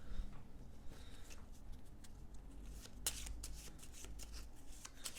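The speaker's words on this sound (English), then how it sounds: "So we're going to take these and shuffle them together." A deck of cards is shuffled close up, with soft riffling and crisp snapping bursts, including a sharp bridge-like flurry midway.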